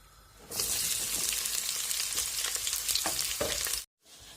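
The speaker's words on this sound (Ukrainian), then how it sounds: "Так, я вже обсмажую цибулю" Onion fries in about half a cup of hot oil in a pan, a loud, dense sizzle that bursts in suddenly and holds steady for a few seconds before cutting off abruptly.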